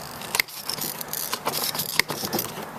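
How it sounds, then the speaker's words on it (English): Tin snips cutting plastic along a line for a Honda CR-V OEM side step bracket, a series of close, crisp snipping crunches with small rattles in between. "So that's the cut using tin snips."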